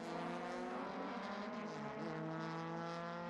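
An Alfa Romeo race car driven hard during qualifying at the Velocity Invitational, a strong continuous high-revving engine drone that holds steady with a slight dip and rise in pitch midway.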